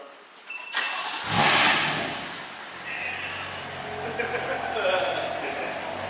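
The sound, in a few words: car engine starting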